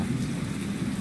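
Heavy rain pours steadily in a thunderstorm at night, a dense, even roar with a low rumbling undertone running through the whole moment, no voices.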